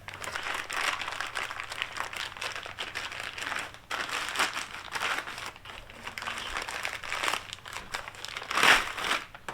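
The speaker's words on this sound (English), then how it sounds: "I'm going to pull the camshaft out of this nice protective thing" A camshaft for a 1966 Chevelle build being pulled from crinkly protective plastic packaging, giving a steady close crumpling and crinkling that runs throughout with a sharper crackle near the end.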